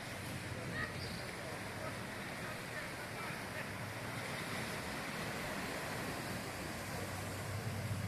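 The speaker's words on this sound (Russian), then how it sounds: "Пожалуйста, пляж Карибского моря." Caribbean Sea waves wash steadily onto the beach at Saona in the Dominican Republic, a constant broadband surf roar mixed with wind noise.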